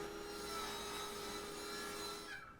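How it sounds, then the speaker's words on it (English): Plywood being ripped lengthwise with a saw, a steady, loud continuous cutting whine and rasp with a fixed tone that holds throughout, then tails off near the end as the cut finishes. "So I get some plywood and I start off by ripping out a piece that matches the adjusted"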